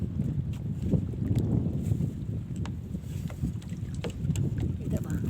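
Low rumbling engine or water noise from a boat, steady and continuous, with wind buffeting the microphone and faint voices in the background.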